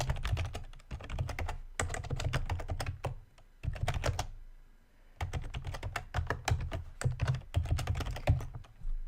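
Rapid typing on a computer keyboard while signing in to an account, close and clear, in dense bursts of keystrokes separated by short pauses.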